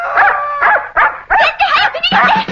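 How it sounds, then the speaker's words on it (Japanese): A dog barks and yips repeatedly in a cartoon chase scene, several loud, close, harmonic bursts in quick succession with brief gaps between them, and no talk over the top. "犬が追ってきたもんで。"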